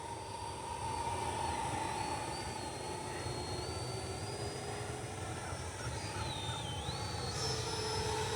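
A Freewing Ares 3D Red 90mm electric ducted-fan RC jet on 8S power flies on its maiden flight, giving a steady, loud whooshing roar with a shifting high whine that rises and falls as it passes overhead, with no talking.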